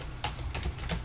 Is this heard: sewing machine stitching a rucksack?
no